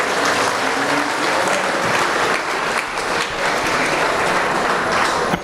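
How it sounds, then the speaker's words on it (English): A crowd at a 4-H beef showmanship event applauds the young exhibitors, a loud, dense, continuous roar of clapping that stays full and even from start to finish. "Let's give all of them a round of applause."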